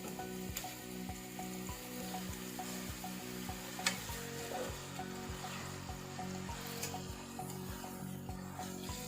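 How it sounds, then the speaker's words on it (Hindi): Chicken pieces fry in a small amount of oil in a pan over a medium flame, a continuous crackling sizzle with regular scraping stirs of a spatula throughout. "चिकन को हमने फ्राई करना है।"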